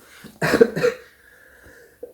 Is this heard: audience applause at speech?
no